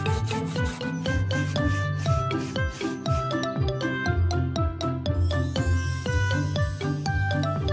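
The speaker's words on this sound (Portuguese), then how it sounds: "esfregue a escavadeira com uma esponja e uma escova" Cartoon scrubbing of an excavator with a sponge and a brush: steady, rhythmic rubbing strokes close up, mixed with a bright, tinkling music track throughout.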